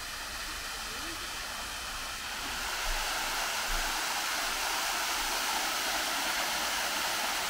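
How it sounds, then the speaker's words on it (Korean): Small waterfall in a forest park, a steady broadband rush of falling water that swells slightly partway through and continues unbroken with no other clear sounds. "문으로 보이는 작은 폭포가 정말 이쁘더라고요."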